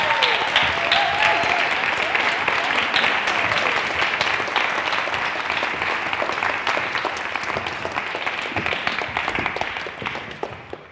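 Audience applause after a talk, steady dense clapping from a room full of people lasting throughout, tapering off slightly at the very end.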